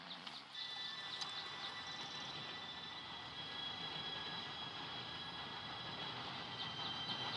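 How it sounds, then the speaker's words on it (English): A train pulls in within Red Dead Redemption 2, a steady, loud, continuous rumble and hiss that holds from start to finish with faint high metallic tones above. "Train should be here any minute now."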